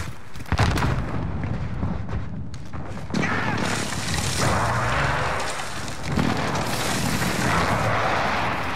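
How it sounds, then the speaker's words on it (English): A precision airstrike lands in Call of Duty Modern Warfare: a sharp blast followed by a second heavy impact, then a long roaring, rumbling wash of explosions and fire with scattered gunfire beneath. "Precision airstrike"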